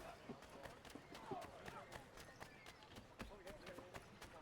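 Horse hooves clip-clopping in Assassin's Creed 3, a steady run of light, fairly quick thuds at moderate distance, mixed with ambient game sounds and a voice talking over it.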